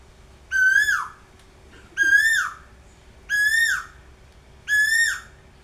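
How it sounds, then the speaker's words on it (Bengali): Asian koel calling from high in a treetop, four loud, clear rising-then-falling whistled notes evenly spaced about a second and a half apart, alone against a quiet background. "এত সুন্দর ডাক কোকিলের।"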